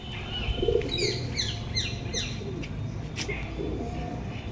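Pakistani pigeons in a loft, soft low cooing mixed with chirps and faint wing movement, close and continuous against a steady background hum.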